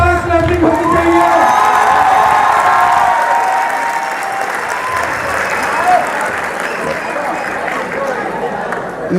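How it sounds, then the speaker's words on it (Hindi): Loud audience applause for poet Muslim Khan at an Urdu shayari recital, a dense sustained roar of clapping mixed with cheers and whoops that fills the room and tapers slightly toward the end. "मुस्लिम खान के लिए जोरदार क्लैपिंग होनी चाहिए।"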